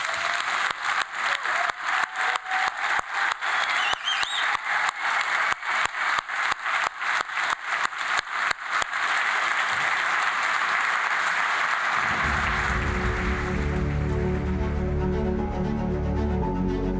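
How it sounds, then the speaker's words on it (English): A large audience applauds students at a university symposium closing ceremony, sustained clapping filling the hall before thinning out as a low musical tone comes in near the end. "Please join me in a big applause for our students."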